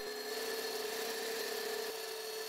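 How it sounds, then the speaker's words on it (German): Four-stroke combustion engine driving a generator at about 3600 rpm, a steady loud mechanical drone with a constant whine and no voices, continuing unchanged to the end. "Die Drehzahl des Verbrenners beträgt etwa 3600 Umdrehungen pro Minute."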